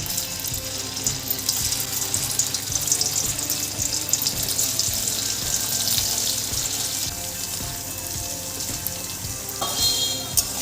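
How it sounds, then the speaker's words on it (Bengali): Paneer cubes fry in white oil in a wok, giving a loud, steady crackling sizzle with frequent stirring and scraping sounds throughout, and no talking. "প্রথমে আমি পনিরগুলো একটু ভেজে নেব, হালকাভাবে পনিরগুলো ভেজে নেব।"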